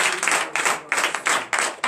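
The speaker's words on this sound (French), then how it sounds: "Donnez encore de vive acclamation." Congregation at a morning prayer service in Comè, Benin, clapping and cheering in several loud bursts of applause that swell and break repeatedly, with a brief voice mixed in.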